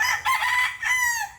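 A Tagalog-breed rooster crows close by and loud, one full crow with a short break partway through.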